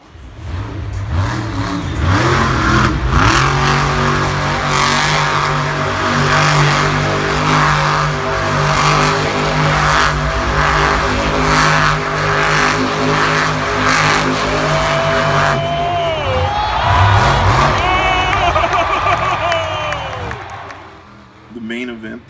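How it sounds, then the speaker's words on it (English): A Monster Jam monster truck engine revs loudly and continuously at an arena event, a roaring, surging drone with crowd noise beneath it, and near the end a shift to higher whining pitches. "It's amazing how fast they could get these trucks spinning and how loud it was as they were revving the engine the whole time."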